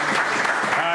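A brief burst of audience applause for NASA in a podcast studio, mixed with voices talking over it.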